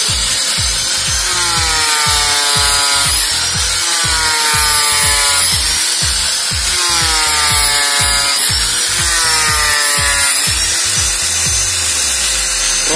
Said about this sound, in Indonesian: Finishing akhir pakai amplas tangan ya gitu.